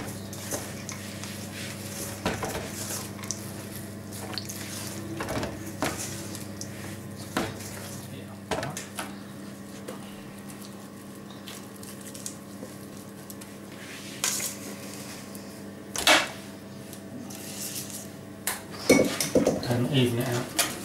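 Soft scraping and clinks of a spatula folding parsnip and honey cake batter in a mixing bowl, with gentle irregular knocks against the bowl and a brief louder clatter near the end, under a quiet background.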